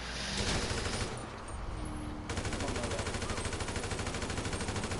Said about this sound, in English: I'm over here just lighting him up with a gun.